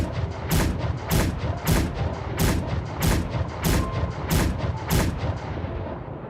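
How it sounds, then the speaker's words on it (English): Ten booming cannon shots from the Hunger Games Simulator game fire in an even, regular sequence about every two-thirds of a second, each a loud deep thud with a sharp crack. "10 cannon shots can be heard in the distance."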